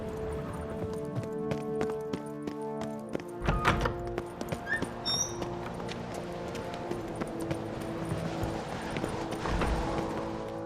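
In The Witcher 3: Wild Hunt, horse hooves clip-clop in a brisk rhythm alongside a horse's whinny and a few dull thuds, over steady background music.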